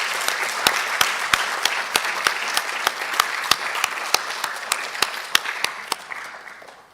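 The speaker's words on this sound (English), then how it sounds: "please join me in another round of applause" An audience at an artificial intelligence industry alliance event applauds steadily for several seconds, with sharp individual claps standing out before the applause fades at the end.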